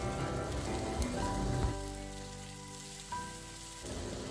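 Chopped onions for a paneer chana masala fry in a pan, giving a faint, continuous crackling sizzle with a few small pops and no one talking.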